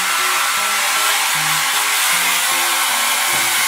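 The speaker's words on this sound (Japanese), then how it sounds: "ドライヤーして。" Hair dryer running loudly and close by with a constant blowing roar, plus faint low tonal hums changing in pitch underneath.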